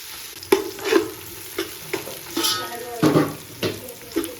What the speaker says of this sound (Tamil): வெங்காயம் வந்து ஒரு கோல்டன் ப்ரௌன் ஆகிற வரைக்கும் வச்சுக்கலாம்